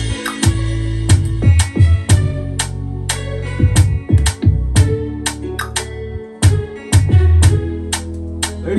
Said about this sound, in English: I added the bass and this new element, and the pre-chorus sound like this.